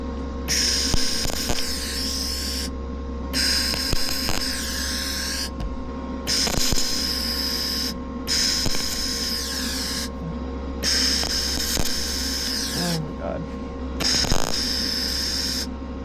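Repeated bursts of welding on a custom car exhaust, five or six sustained crackling buzzes of about two seconds each, separated by short pauses over a steady low hum, fairly close and loud with no talk.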